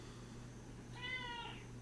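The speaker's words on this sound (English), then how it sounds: "It's only two things he meows about" A pet cat lets out a single clear, drawn-out meow in the middle of the stretch, faint against a low steady hum, with quiet around it.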